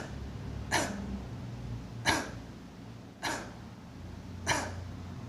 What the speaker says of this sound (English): So now give yourself a little cough